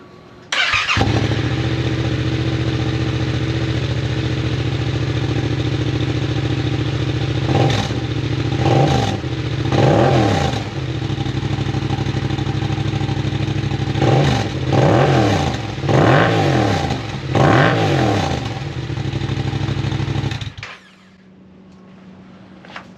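A Yamaha MT-07 motorcycle fitted with a full exhaust system cranks and fires up, then idles loudly at close range with a steady rumble broken by several sharp throttle blips and revs before it shuts off.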